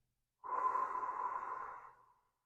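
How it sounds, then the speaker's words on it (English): One slow, even breath pushed out of the mouth in Sheetali cooling pranayama, a close, gentle airy whoosh of roughly two seconds that fades out at the end, with no voice over it. "hold and swallow, and exhale out your mouth, relaxing the body"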